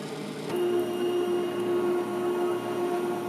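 A Silhouette Cameo 3 plotter running a cut-and-print job, starting with a sudden mechanical onset into a steady motor whine and whir that continues evenly and fairly close, with no talking.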